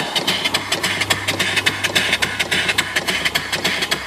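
An Allen steam engine driving an alternator for off-grid DC electricity chuffs along at low speed, its steady rhythmic pulses repeating evenly with a low hum underneath, close and alone.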